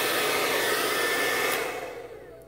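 A blower dries an acrylic pour painting on a canvas, running as a loud, steady broadband rush that fades over the last second as it is moved away or switched off.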